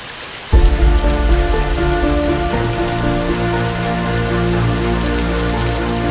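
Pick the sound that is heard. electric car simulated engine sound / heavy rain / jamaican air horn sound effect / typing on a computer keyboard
heavy rain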